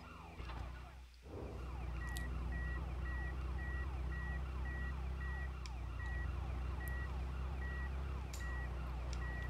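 An ambulance siren in GTA Chinatown Wars wails continuously and loud after a brief thud at the start, its repeating sweeping tone cycling over a steady engine rumble.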